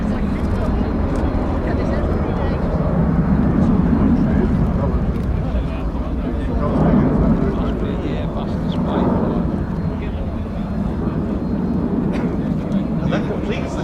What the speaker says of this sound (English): And that completes the display from the Airbus Beluga XL.